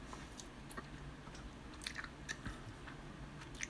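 Close chewing and biting on a piece of food, with faint crunches and soft mouth clicks repeating irregularly over a low background hum, with no talking.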